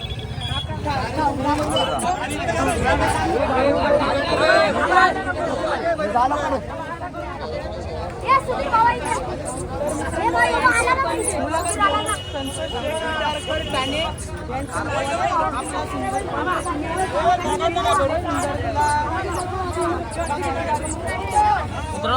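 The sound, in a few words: crowd celebrating bullock cart race win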